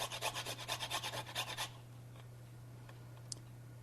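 Whole nutmeg scraped across a small grater in about a dozen quick, rhythmic rasping strokes close by. The strokes stop after a second and a half, leaving quiet room tone.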